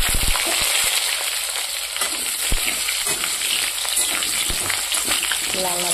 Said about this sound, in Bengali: এবার হচ্ছে মাংসর জন্য আলুটা ভেজে নেব, তার জন্য আলুটাকে দিয়ে দেব।